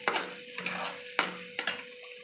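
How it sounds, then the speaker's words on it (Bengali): Turmeric, chili and cumin spice paste frying in oil with a sprinkle of sugar, stirred with a spatula in a pan; four distinct scraping strokes cut through a steady sizzle, close and moderately loud. "এবার ভালো করে মশলাটা কষে নিতে হবে যতক্ষণ না তেল ছাড়বে"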